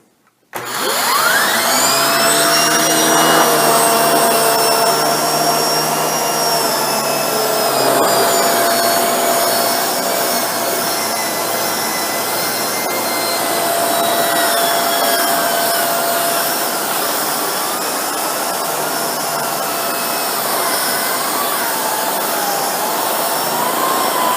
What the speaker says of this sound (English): Now we'll turn the vacuum on and give this a go.